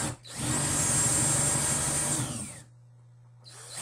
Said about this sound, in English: I'm going to use the screw gun here.